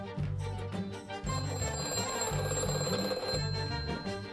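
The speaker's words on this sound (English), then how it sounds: "the phone rang at the home of the Israeli Prime Minister's military advisor, Colonel Liev" A telephone rings at night in a home in 1967, repeating its bell in bursts across the clip beneath a dramatic music score, with no talking.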